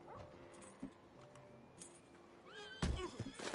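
A horse neighs in the Red Dead Online video game, a shrill rising whinny heard fairly close near the end, following quieter game ambience and small snorts.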